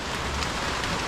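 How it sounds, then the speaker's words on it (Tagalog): A heavy outdoor downpour makes a dense, steady hiss of rain falling hard and without a break, with no voices over it. "Kasi bumuhos na ang ulan."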